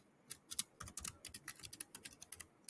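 Rapid, irregular keystrokes on a computer keyboard while a LinkedIn message is typed, crisp close clicks in quick bursts with short pauses, no voices.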